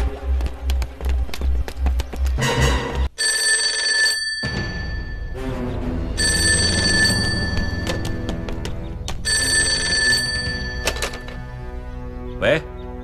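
A telephone rings in a kung fu film scene, with repeated bursts of bell ringing alternating with short pauses, loud and close, alongside thuds and movement sounds.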